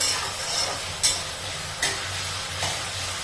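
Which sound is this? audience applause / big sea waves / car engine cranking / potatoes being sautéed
potatoes being sautéed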